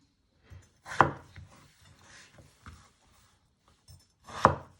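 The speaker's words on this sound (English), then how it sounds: "you're just going to chop them into 2" A knife chops potatoes on a board in a few irregular strokes, two of them sharp and loud, with softer cuts and quiet pauses between.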